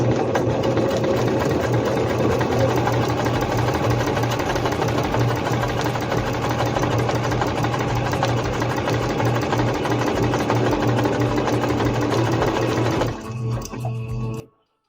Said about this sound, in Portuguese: Vou soltar toda a tensão da linha até no número 0 e vou fazer uma costura